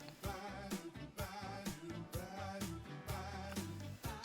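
Backing music from the Jamzone app with chords reduced to the beginner level: an even drum beat with simpler held chords over a bass line, steady and moderately loud, with no speech.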